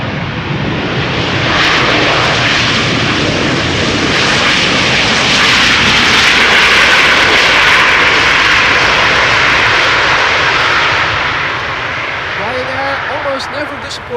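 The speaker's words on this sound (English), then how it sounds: "Small jet, big sound, courtesy of Ryanair." A Ryanair jet airliner arrives at Amsterdam Schiphol Airport, its engine roar swelling loud and steady for most of the stretch before easing off, while a person talks over it.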